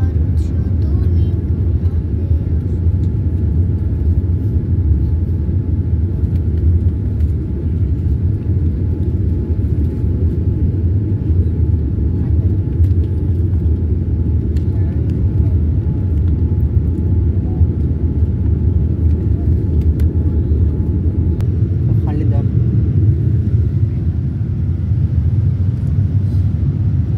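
Steady low cabin roar aboard a Boeing 787-9 airliner in flight on a Sylhet to Dhaka trip, a constant deep engine and airflow drone filling the whole stretch without change.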